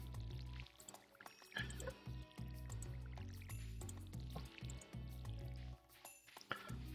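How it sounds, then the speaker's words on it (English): Water splashes from a watering can onto crops in the farming game Stardew Valley, brief liquid pouring and dripping sounds layered over prominent, continuous background game music. "Definitely want to water the ground beside it."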